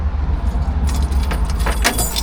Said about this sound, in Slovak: Kľúče mi vypadli.